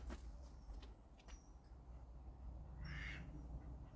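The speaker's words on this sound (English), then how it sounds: "There's those ducks I was just telling you about, just having a leisurely Sunday morning." Ducks on a canal beside a brick bridge on a quiet morning give a few faint, distant quacks over a low steady outdoor background, with one clearer call near the end.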